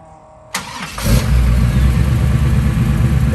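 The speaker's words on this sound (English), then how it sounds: "Go and fire up, Jay." A 1933 Ford 5-window street rod with a ZZ4 crate engine cranks briefly and fires, then settles into a loud, steady, rumbling idle close by.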